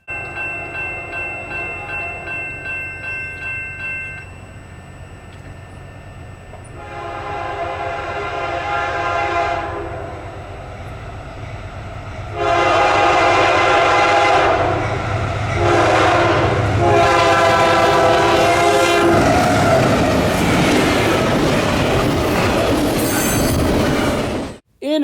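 CSX freight train I-191, with a Missouri Pacific heritage locomotive trailing second, sounds its horn in several long blasts on the Garrett Subdivision while rumbling past at speed, growing loud and close with steady wheel and car noise.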